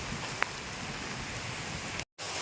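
Heavy rain falling steadily, a soft even hiss with a brief click early on and a short dropout near the end.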